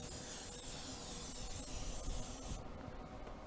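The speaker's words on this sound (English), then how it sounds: "I'm going to spray it with a little grilling type PAM, cooking spray, just so these wings don't stick." A steady hiss of aerosol grilling cooking spray coating a grill rack runs for a few seconds, then cuts off, leaving faint background rustle.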